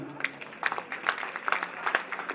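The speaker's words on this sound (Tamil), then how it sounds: "எங்கே உங்கள் கரகோஷங்களுடன்" Audience applause follows a dance announcement at a Tamil stage performance, a steady patter of many hands clapping at moderate distance with no voices over it.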